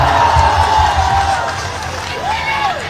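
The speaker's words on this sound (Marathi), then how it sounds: "तर या सगळ्यासाठी टाळ्या वाजवा" Crowd at a Nagpur street protest cheering and whooping loudly, with clapping mixed into a continuous roar; a voice rises above the crowd noise throughout.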